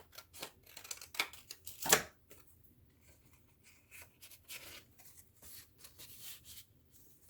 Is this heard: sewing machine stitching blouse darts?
no